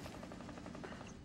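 A possessed camera in a video game firing at the player, a quiet, steady stream of rapid shots over about a second with dense background noise.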